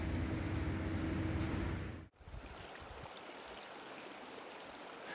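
Mountain stream water in the Emigrant Wilderness near Sonora Pass, a steady close rushing flow that dips abruptly partway through, then continues as a softer, broader wash.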